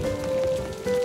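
Rain from a cartoon storm patters steadily on a surface in a short, dense burst, with a sustained tone droning underneath.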